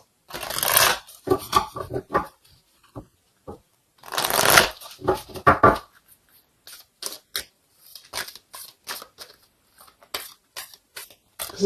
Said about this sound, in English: let's go ahead and get an oracle card here to confirm this